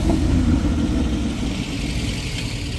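A yellow Porsche Cayman GT4 drives past in a town centre, its engine a mid-pitched rumble that swells briefly at the start and then settles into a steady drone, heard alone with no talk.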